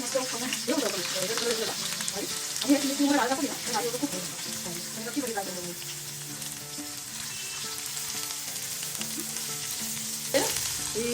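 Steady sizzling of okra frying in hot oil, a continuous crackling hiss with a few louder pops, heard alone without talk.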